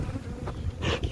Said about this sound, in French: il y a un essaim qui vient de rentrer dedans